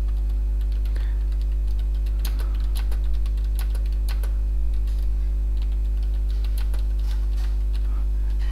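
Keys on a computer keyboard tap out text in a word processor, a quiet run of soft, irregular clicks in bursts over a steady low hum, with no voices.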